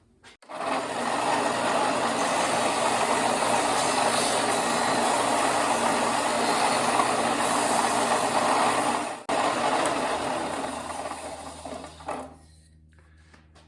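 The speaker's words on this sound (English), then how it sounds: "using our belt sander" A belt sander smooths small curved wooden pieces cut on a bandsaw, a loud, steady whirring grind running continuously, dipping briefly once, then winding down to quiet near the end.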